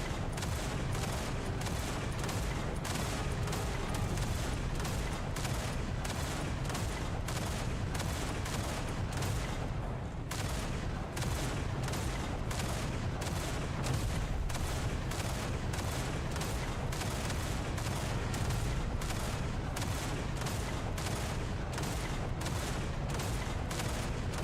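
Video game gunfire, a dense, continuous stream of rapid shots near and loud for the whole stretch, with one brief break partway through.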